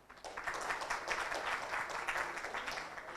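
A crowd applauds steadily, dense clapping heard from a distance at moderate volume, without a break.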